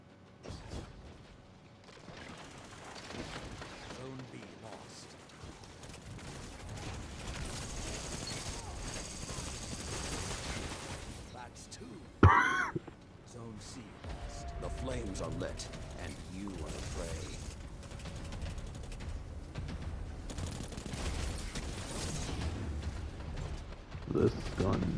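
Tommy's Matchbook firing in Destiny 2, a rapid automatic burst with mechanical clatter, one loud sharp crack midway, a player's voice talking over much of it.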